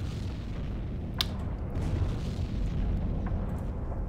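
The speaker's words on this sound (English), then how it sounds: "we are hearing those underwater explosions of the ship we just sent down to the bottom" Muffled underwater explosions from a sinking medium cargo ship in the Silent Hunter 3 submarine game, a deep continuous low rumble with one brief sharp burst near the start and faint distant thuds later.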